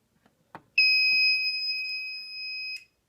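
Fire alarm system sounding during a panel test, a steady two-tone electronic alarm holding for about two seconds after a few faint clicks, loud and alone before cutting off.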